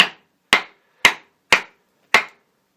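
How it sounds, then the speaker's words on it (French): A knife blade is driven into wood by striking its back with another piece of wood: five sharp, evenly spaced knocks about half a second apart, close and loud, with silence between and no talking. "vous placez d'abord votre couteau comme ça, et avec un autre bout de bois en fait vous allez rentrer la lame"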